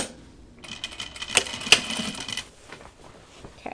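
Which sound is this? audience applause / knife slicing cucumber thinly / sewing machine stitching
sewing machine stitching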